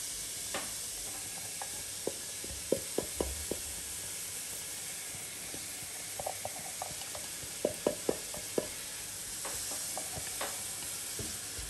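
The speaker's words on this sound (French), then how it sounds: "Et on va faire revenir notre oignon" Onion frying in sunflower oil in a pan, a soft continuous sizzle broken by clusters of quick utensil taps and stirring clicks, no voices.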